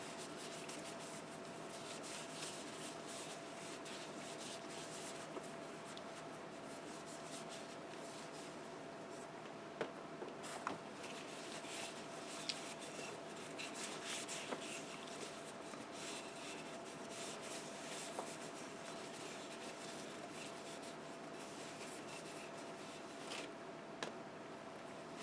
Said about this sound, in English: And let's wipe it with a clean rag.